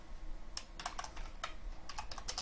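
Typing on a computer keyboard, sharp clustered key clicks in uneven bursts, close and fairly quiet over a soft room hum, with no one speaking.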